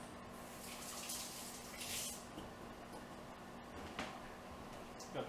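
Water runs steadily from a tap during handwashing, a constant close splashing hiss with small sloshes and rubbing noises and no talking.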